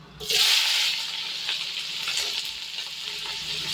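Bay leaf, cardamom, cloves, cinnamon, star anise and onions drop into hot oil for a chicken gravy curry, giving a sharp burst of sizzling that settles into a steady, softer frying hiss, close by with no voices.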